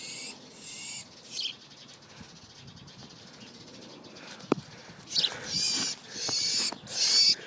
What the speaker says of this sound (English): I have saved the gutter bird.